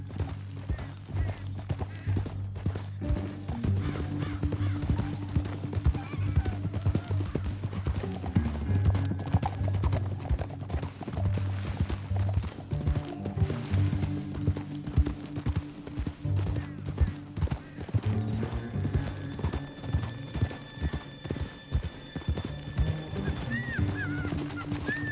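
Horse hooves clip-clop steadily and rhythmically on the ground throughout a long stretch of Red Dead Redemption 2 gameplay, with background music and ambient game sound underneath.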